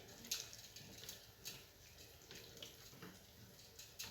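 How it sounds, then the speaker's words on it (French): Water runs quietly from a kitchen tap as hands are washed, a faint steady trickle broken by soft splashes and patters. "Je vais me laver les mains."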